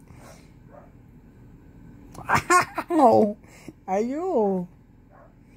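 A father dog among a litter of growing puppies gives a few short yaps and whimpers close by, in quick bursts between moments of quiet, while a person exclaims over them.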